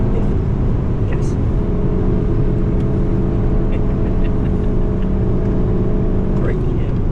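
Race car engine lapping the Nürburgring, a loud steady drone with a sustained tone held throughout and a brief shift near the end, close and constant from inside the car.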